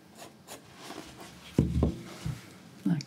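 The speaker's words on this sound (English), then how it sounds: "just kind of scrubbing back and forth" Paintbrush scrubbing back and forth over acrylic paint on canvas while painting a Christmas snowman, heard as soft close rubbing strokes with a few louder brushy bursts in the second half.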